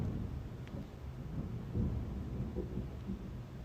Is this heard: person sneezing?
no